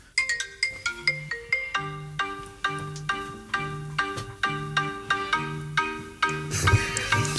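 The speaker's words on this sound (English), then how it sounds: "It's really clever because it sounds like the normal marimba ringtone, but it mixes into Forgot About Dre." A marimba phone ringtone remixed into Forgot About Dre plays as a steady, rhythmic run of bright mallet notes over a repeating bass line, loud and alone, swelling into a denser burst near the end.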